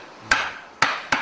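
Three sharp, hollow knocks of a wooden mallet striking timber during traditional carpentry by a master carpenter, close and loud, irregularly spaced with short decaying rings between blows.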